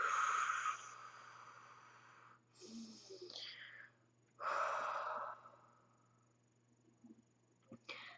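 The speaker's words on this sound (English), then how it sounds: "take a nice deep breath in And a great long exhale" A person takes a deep breath in and lets out a long exhale during a guided stress-relief tapping session, the close, soft breaths sounding as airy rushes separated by quiet pauses, with no talking over them.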